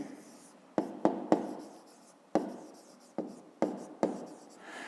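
Numbers being written by hand during a fifth-grade maths exercise, a quiet series of about eight sharp pen or pencil taps and strokes at uneven intervals, close and alone.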